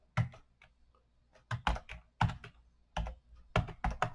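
Clacking keys on a computer keyboard as someone types text, arriving in several short bursts of close, crisp clicks separated by brief pauses.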